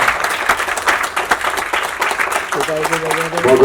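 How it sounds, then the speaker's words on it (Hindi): Continuing applause from an audience at an All India Artist Association foundation-day arts event in Shimla, a loud steady patter of many hands, with a voice and a sustained musical tone joining near the end. "तालियां बजती रहनी चाहिए।"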